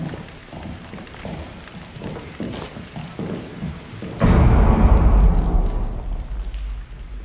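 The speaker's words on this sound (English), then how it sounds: "You can hear the enemy walking around upstairs." Muffled thuds and shuffling footsteps move around overhead in Rainbow Six Siege, then a sudden heavy rumble swells and slowly fades.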